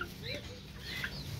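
A young chicken, a pullet of a fighting-cock breed, clucks and chirps in short, irregular calls over steady background noise, fairly close with no talking.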